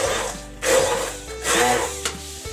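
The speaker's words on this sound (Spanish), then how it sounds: "Y vamos a batir todo hasta obtener una mezcla homogénea." Blender whirring as it purées chopped ingredients into a smooth liquid mixture for chashushuli, the Georgian meat stew, in a home kitchen; two or three loud motor bursts with a fluctuating tone, no talking.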